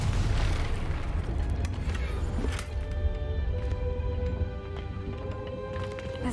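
A Confringo fire spell explodes in the Hogwarts Legacy video game, a loud booming blast at the start that rumbles and slowly fades into a lingering crackle and ringing tail.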